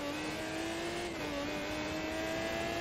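A Pagani Zonda GR in the racing game Forza Motorsport 2 drives at a steady engine pitch, one sustained smooth drone that holds nearly level with only a slight dip, loud and continuous with no talk.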